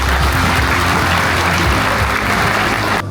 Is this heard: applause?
yes